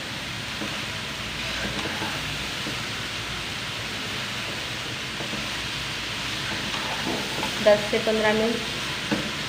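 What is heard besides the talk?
frying grated carrots in a pan for gajar halwa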